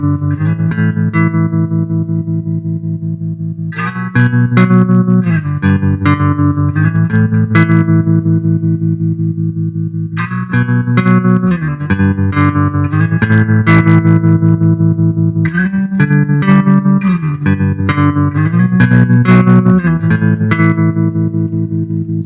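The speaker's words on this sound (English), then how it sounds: "Let's do Tremolo." A bass guitar played through a Mark Bass CMB 150 Black Line amp with tremolo effect, loud and pulsing, repeated notes and short melodic runs with wobbling volume and reverb, no talking.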